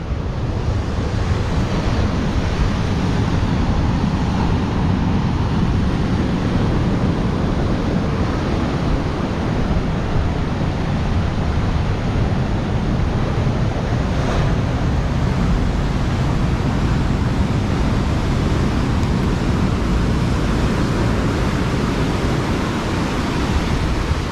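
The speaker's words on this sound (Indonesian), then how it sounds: "teman-teman bisa lihat sendiri kedahsyatan ombak pantai selatan" Powerful surf on a south coast beach at Pantai Seruni, Donorojo, Pacitan, roars steadily and loudly with no let-up, rough wind buffeting the microphone throughout.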